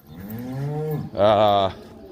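Two loud cow bawls follow each other closely, the second one louder and harsher.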